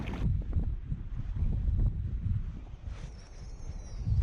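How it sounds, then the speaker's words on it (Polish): Gusty wind buffets the microphone at the seashore of Puck Bay with low rumbling roars, rising and falling continuously, and a faint high whine appears near the end. "wieje dosyć mocny wiatr"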